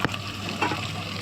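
Tomatoes dropped into a pan of potato and eggplant curry, giving a short soft thud and then a steady, fairly quiet sizzle of frying with no talk.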